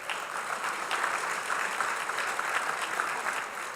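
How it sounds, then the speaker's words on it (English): Steady applause from an audience at a Santa Monica State of the City civic event honoring local legislators, a dense, even wash of clapping sustained throughout at moderate level. "Give them all a round of applause."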